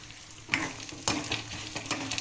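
Tomato and tamarind sauté in a pan for chutney, giving a moderate sizzle broken by a few scraping stirs.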